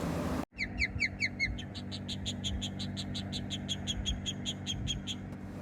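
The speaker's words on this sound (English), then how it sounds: "This roadside had birds living in it." Birds along a roadside give a long series of sharp, evenly spaced chirping calls, repeated about twenty times in steady rhythm over a faint background hum.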